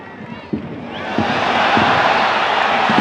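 A dense, loud football stadium crowd swells into a broad roar at a K League match between Bucheon and Ulsan, rising and holding steady, with low rhythmic thumps early and a commentator's voice over the top.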